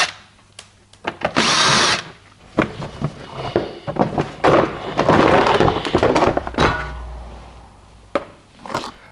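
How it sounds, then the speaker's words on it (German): A cordless power tool backs out Torx screws from the wheel-arch liner of a Skoda Yeti 2.0 TDI in several loud, close whirring bursts, separated by clicks and clunks of handling. "schrauben wir alle Torx-Schrauben, die im Radkasten zu finden sind,"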